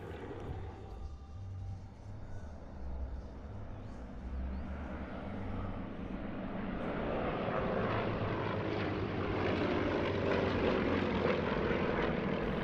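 Yak propeller aerobatic aircraft of Portugal's Yak Stars formation team flying at the Portugal Air Summit 2018 airshow, a steady droning engine roar that swells louder over the second half, with no talk.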